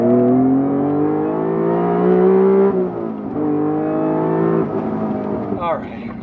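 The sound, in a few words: supercharged Honda NSX VTEC engine revving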